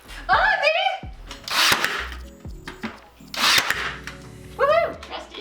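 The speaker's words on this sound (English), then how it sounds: "Jess was so excited because I let her use the brad nailer" Brad nailer firing into wood during a home office makeover, several sharp pneumatic bursts spaced a second or two apart, with excited voices and shouts between and around the shots.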